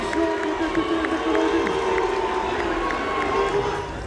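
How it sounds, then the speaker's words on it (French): A large political crowd boos and chants at François Ruffin, a dense roar of many voices with a steady rhythmic chant pulsing through it before it eases slightly at the end. "il a été hué et la foule a scandé"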